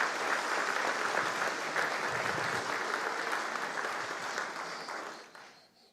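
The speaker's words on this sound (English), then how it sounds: "Would you give those people a round of applause?" Audience at a chamber of commerce annual meeting breakfast giving a sustained round of applause, dense clapping from a roomful of people that tapers off near the end.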